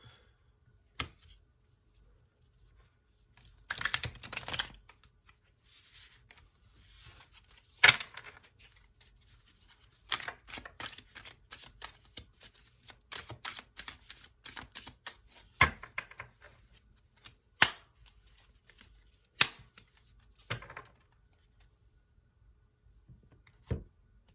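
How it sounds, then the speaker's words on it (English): A tarot deck is shuffled by hand in scattered bursts of crisp riffling and card-slapping clicks, with quiet gaps between them and no talking. "So I'm going to shuffle for a minute"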